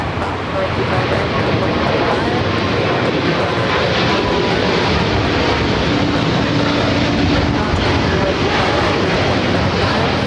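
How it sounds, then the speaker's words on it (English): An Air China Boeing 777-300ER jet airliner at LAX roars steadily and loudly, a continuous broadband engine rumble with no break for the whole stretch. "And Air China, the 777-300ER."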